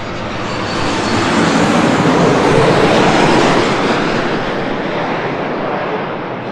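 A jet airliner on its approach in from SFO roars loudly and steadily, a broad wash of engine noise that swells over the first second, holds strong, then eases slightly toward the end.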